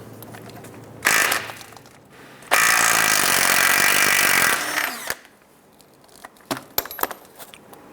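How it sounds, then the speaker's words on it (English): A 22mm socket on a power tool spinning off a tie rod nut on a 1995-2001 Ford Explorer: a short whir, then a loud sustained buzzing run of about two seconds, followed by scattered metallic clinks. "we're going to go ahead and remove this nut."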